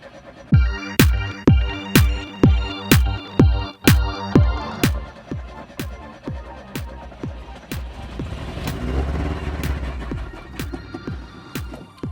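A Fiat Spider engine running on starter fluid, likely with a flooded cylinder, cranks and coughs in a steady series of sharp, rhythmic pops, then sputters into a rougher, uneven rumble before dying down.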